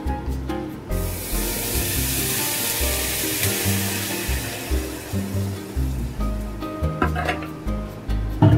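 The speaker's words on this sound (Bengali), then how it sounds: "ওটসটা হালকা ভেজে নিয়েছি, এবার জল দিয়ে দেবো।" Water poured into a pan of lightly fried oats sets off a loud, steady hissing sizzle that holds nearly the whole time, with some clatter and stirring near the end.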